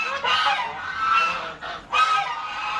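Geese honking loudly and close by in repeated harsh calls, with a short dip before another burst of honks.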